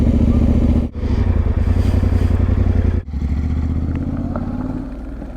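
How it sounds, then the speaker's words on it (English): A motorbike engine runs loud and close at a campsite, a steady throbbing rumble broken by two brief gear-change dips before settling into a lower idle that fades slightly. "There's a motorbike."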